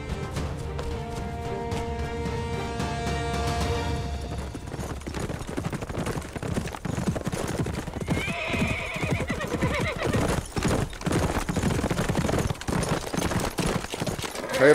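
A horse whinnies loudly and hooves clip-clop amid a dramatic battle soundtrack from a historical Turkish drama, with bursts of gunfire-like clatter and a busy, layered mix throughout.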